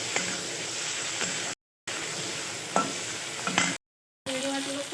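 Prawns frying in hot oil give a dense, continuous sizzle with occasional spatula scrapes, broken twice by short silent gaps.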